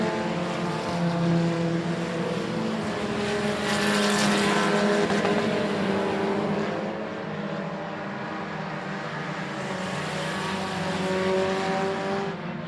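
Race cars roar around the I-37 Speedway oval in a steady, droning engine wash that swells as cars pass close, fades, then builds again, with no talk over it.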